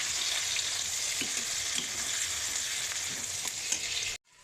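Whole cinnamon bark, cardamom, cloves and onion sizzle in hot oil for a jackfruit and mutton kosha, a continuous close frying hiss with faint stirring ticks that cuts off abruptly at the end.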